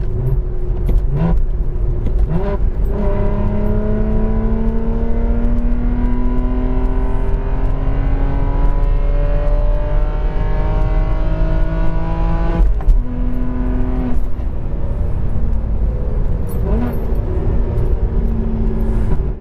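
A 2009 BMW E92 328i with a six-speed manual pulls hard, engine note climbing steadily through the revs, breaking briefly for a gear change before rising again; loud, close cabin sound with no talking.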